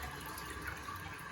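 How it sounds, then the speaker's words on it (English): A toilet flushes when its handle is pushed down, but the bowl does not drain completely; a steady, close rush of water runs through the whole moment with no talking. "Push it down, it flushes,"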